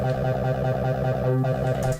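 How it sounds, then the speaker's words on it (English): A Behringer TD-3 bass synth with accent and distortion turned up plays a rapid, repeating gritty, buzzy bassline. It is loud, close and fully upfront, with no talking over it. "So you need to have the accent turned up or you're not going to get that squelch feeling"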